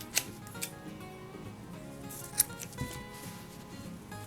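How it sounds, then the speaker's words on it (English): Scissors snipping through crochet yarn, a few faint quiet clicks and cuts spaced apart over soft background rustle. "I'm going to cut my yarn,"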